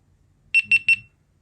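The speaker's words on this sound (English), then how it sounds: "You'll hear that beep." Three quick, bright electronic beeps in rapid succession from a GoPro Hero 11 Black camera during a factory reset, then silence.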